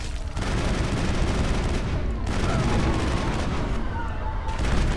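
Dense, continuous gunfire from the video game Mass Effect rattles loudly in sustained bursts with a short pause partway through, while an enemy opens fire on the player.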